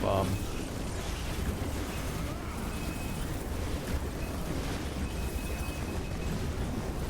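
Dense layered explosion effects roll continuously through the Chronicon video game, a loud rumbling wash of bursts and booms with game noise throughout.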